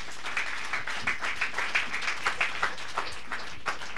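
A church congregation applauds, brisk rhythmic clapping at moderate distance, roughly three claps per second, holding steady throughout.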